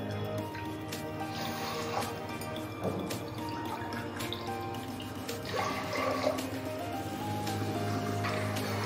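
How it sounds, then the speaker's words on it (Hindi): Water being poured into a pressure cooker holding a cup of sugar in a home kitchen, a running, splashing stream with small drips and clinks, moderately close, no talk over it. "इसी कप के नाप से हमें 4 कप पानी लेना है।"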